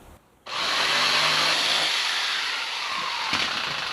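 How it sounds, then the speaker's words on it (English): A power jigsaw cuts a curved notch in a wooden panel for a Land Rover camper conversion, starting abruptly and running as a loud, close, continuous rasping buzz for a few seconds with no talk. "Some jigsaw work."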